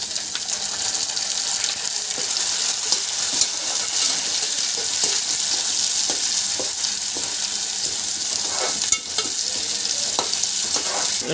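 Tomatoes stirred into browned onions frying in a pan for a cashew-seed curry, an even sizzling hiss with repeated spatula scrapes and clinks over about eleven seconds, close and steady, with no talking.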